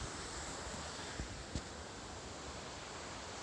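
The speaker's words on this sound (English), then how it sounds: "There's the river" A river in northern BC mountain country flows with a steady, broadband rushing hiss, constant and fairly distant, with a couple of faint bumps.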